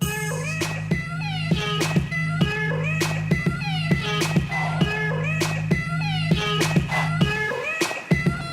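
A cat meowing repeatedly in a steady rhythm of loud, close calls over a constant hum, with sharp clicks between meows.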